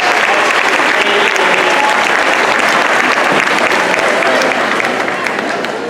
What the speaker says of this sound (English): they earned that round of applause and much more